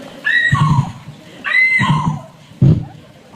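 A voice imitates a horse neighing, in two drawn-out whinnies followed by a short snort-like burst, all close and fairly loud with no other talk, performed as school mimicry.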